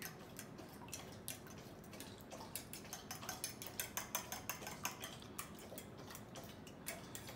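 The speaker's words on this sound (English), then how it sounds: "Beat my eggs over here." Eggs being beaten in a bowl with a whisk or fork, a steady run of quick clinking ticks at moderate level, close by, with no talking, while preparing crispy Parmesan chicken.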